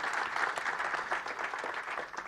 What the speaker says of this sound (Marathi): त्या सगळ्या साठी आपण एक जोरदार टाळ्या वाजवायत असं मला वाटतं